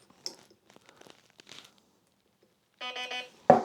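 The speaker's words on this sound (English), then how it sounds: "So as you hear, there's a nice beep." A few faint crinkles and clicks, then a short buzzing electronic tone from a programmable MOSFET in a Well WE13 airsoft gun, and a sharp click at the end.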